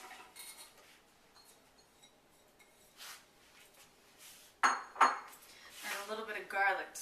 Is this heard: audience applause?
no